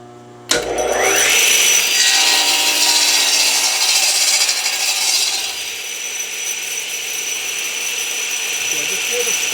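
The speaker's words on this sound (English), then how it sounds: "So I'm going to cut this board at a rough length of 8 inches" A power saw bites into a wooden board being cut to length for a step stool, starting abruptly with a loud whine and shriek through the wood, then settling into a steady, slightly quieter running hum.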